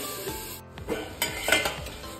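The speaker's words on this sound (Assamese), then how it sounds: "মই মিডিয়াম ফ্লেমত এইখিনি ভাজি থাকিম" Papaya pieces fry on medium flame, with a soft sizzle under repeated scrapes and clinks of a spatula stirring against the pan, several distinct strokes in a close, uneven rhythm.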